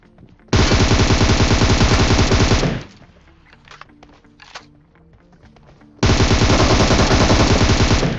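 Two long, loud bursts of rapid automatic gunfire in a battle royale video game, separated by a quieter stretch of scattered game sounds and faint thuds.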